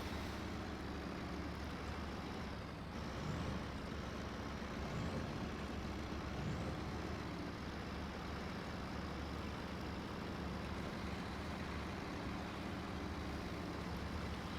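A monster truck's engine strains under load in SnowRunner while pulling, a steady loud drone with continuous rumble and occasional faint hiss, no talking.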